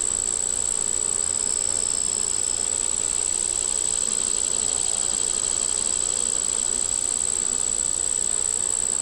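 Honey bees buzzing around an open hive frame holding brood, honey and larvae, a loud dense continuous hum with a steady high whine close by, unbroken throughout and no talking.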